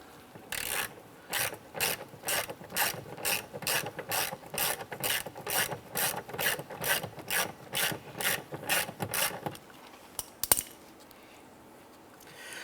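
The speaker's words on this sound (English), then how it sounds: "I'm going to go ahead and use our 10mm socket," A ratchet turning a 10mm socket loosens a nut on a 2015-2020 Cadillac Escalade, producing a steady run of about eighteen evenly spaced clicking strokes. A short knock follows, then quiet.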